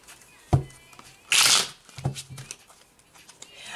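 Tarot cards are shuffled by hand in short riffling bursts, close and crisp, with a longer rustling flurry in the middle and softer card taps around it.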